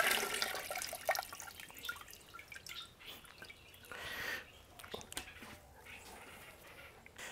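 A whole turkey is lifted out of its brine, with water dripping and trickling back into the container in irregular drops and small splashes, close and fairly quiet, with no talking.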